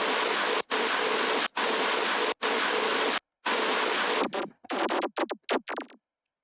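Tearout dubstep bass, heavily distorted through a saturator, blasts as a loud, harsh roar cut by sharp gaps. It ends in a stuttering run of clipped, glitchy bursts with distorted tails before falling silent.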